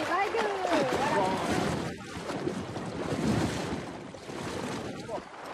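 Steady broadband wash of ocean waves and wind buffeting the microphone, continuous throughout, with a faint voice underneath.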